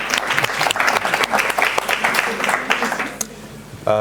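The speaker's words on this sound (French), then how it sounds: "On peut vous applaudir." Audience at a conference session applauding the speakers, dense close clapping that thins out near the end as a voice begins.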